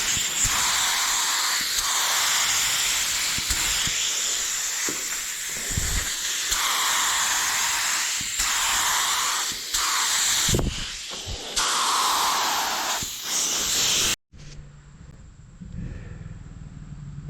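Spray gun laying a paint coat over metal flake on hot rod flames, a steady close airy hiss running in long passes with brief pauses, cutting off near the end to quieter background.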